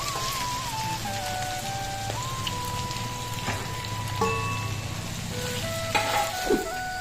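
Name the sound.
green spices sizzling as they are added to sautéed vegetables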